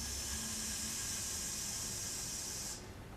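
Steady broadband white noise hissing evenly for about three seconds, fairly quiet and alone, its bright upper edge dropping away just before the end.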